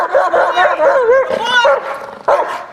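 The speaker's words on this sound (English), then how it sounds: "how to get a protection dog to bark at a random person out in public" A protection dog barks repeatedly at a stranger out in public, loud and close, in a run of sharp, yippy barks with brief pauses between them.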